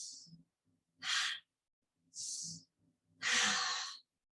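Four slow, audible exhalations during a gentle yoga breathing practice, each a soft airy whoosh lasting about half a second, spaced evenly apart and close to the microphone with quiet gaps between.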